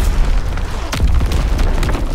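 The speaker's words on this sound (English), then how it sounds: "Incoming enemy artillery! Get to cover!" Heavy artillery explosions from Call of Duty WW2 rumble in a dense, continuous low boom, with a stronger blast roughly midway.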